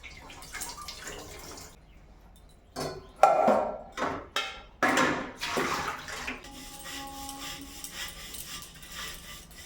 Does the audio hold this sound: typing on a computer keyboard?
no